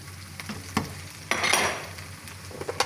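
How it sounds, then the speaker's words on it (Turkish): Boiled meat sizzles in a pan as it is stirred for Ankara tava, with frying crackle throughout and a few louder scraping stirs and clinks near the middle. "Şöyle haşladığım eti de içerisine alıyorum."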